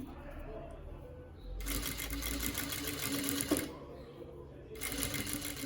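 Sewing machine stitching a seam on a boat-neck blouse, its fast mechanical whir running in two steady bursts with a pause between, heard under a quiet room background.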